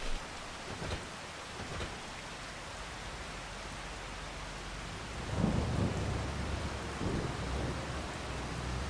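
Steady rain and rolling thunder in the farming game Farming Simulator 25, a constant hiss of downpour with low rumbles swelling early and again midway, no voices.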